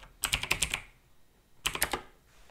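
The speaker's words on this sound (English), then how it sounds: "I'll type in spacematch.world" Two quick bursts of computer keyboard typing as a web address is entered, close and crisp clicks with a short pause between them.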